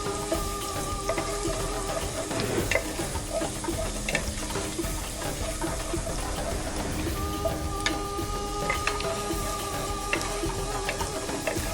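Chili and garlic sizzling in butter in a pan, a steady close crackling fry with occasional stirring clinks, no voice over it.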